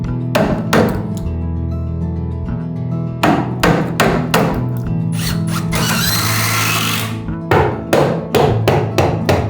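A chisel struck repeatedly with a hammer to trim cypress floor joists, giving sharp, loud knocks in irregular bursts, with a stretch of harsher scraping in between.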